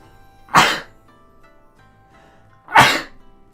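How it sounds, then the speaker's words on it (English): Two sharp, loud sneezes from a nearby person, about two seconds apart, with quiet in between. "There's the sneeze I was holding back."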